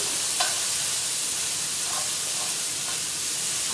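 Turkey browning in a hot skillet, a steady broadband sizzle and hiss running evenly throughout with a few faint stirring scrapes, moderately close and with no talk.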